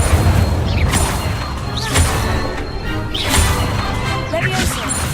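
Incendio fire spell cast repeatedly in Hogwarts Legacy, with several loud whooshing, crashing bursts spread across a dense, constant wash of game sound.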